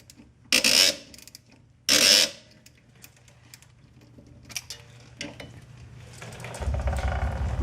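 A wrench loosens the bolts on the rear wheel hub of a 2001 Chevy Cavalier, producing two short, loud bursts of rapid ratcheting followed by scattered metallic clicks and a low rumble near the end.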